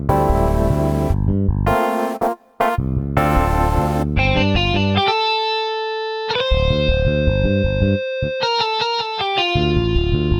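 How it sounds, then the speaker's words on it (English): A Casio PX-5S keyboard split into zones plays bass, electric piano with synth layered on top, and distortion guitar in the upper register, with chords and sustained distorted notes, loud and close. "This very first one is bass guitar, EP with a synth on top, and a distortion guitar at the top registry, the top register of the keyboard."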